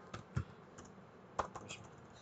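Fingers type on a computer keyboard in a quiet room, a few scattered soft key clicks spaced irregularly.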